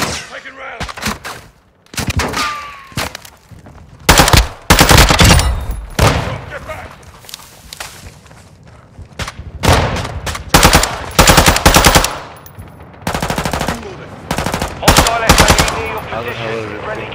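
Gunfire in Call of Duty: Modern Warfare II, loud machine-gun bursts and single shots in sustained irregular volleys with booms, close and intense, with a few voices mixed in.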